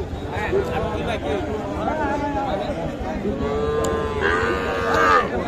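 Young calves mooing at a rural cattle market, several drawn-out bawling calls close by over a constant crowd murmur and chatter.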